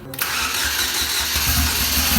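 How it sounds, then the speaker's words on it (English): A salvaged car being built into a street-legal race car cranks and then fires up, its engine catching into a loud, rough, steady running roar close by, with no talking. "I think it's gonna fire up."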